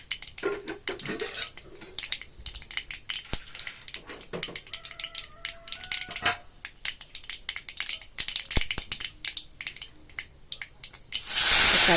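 Mustard seeds spluttering in hot oil, rapid irregular pops and crackles over a sizzling hiss, with occasional pan clinks and a brief voice, ending in a loud burst of spray-like sizzle as something is added.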